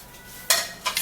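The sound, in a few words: stirring parsley, pear and cucumber drink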